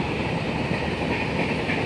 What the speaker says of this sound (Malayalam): ചാമഞ്ചേരി റെയിൽവേ സ്റ്റേഷനിലൂടെ നിർത്താതെ പോകുന്ന ഒരു ട്രെയിൻ അതാ പോകുന്നു.